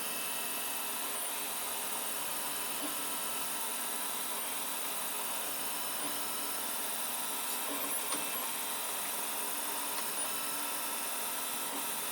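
A 3D printer at work with its bed moving forward, a steady high whine of stepper motors and fans droning continuously, with faint periodic ticks and small shifts in pitch as the head and bed travel.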